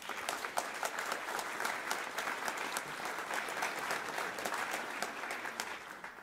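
Conference audience applauding in a large hall, dense, even clapping that carries at moderate distance and steady level for several seconds without speech.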